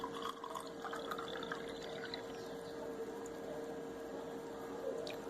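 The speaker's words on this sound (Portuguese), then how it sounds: "no primeiro momento, vamos estar colocando aqui a água" Water is poured steadily into a container, a continuous soft splashing and gurgling that stays fairly quiet and even throughout.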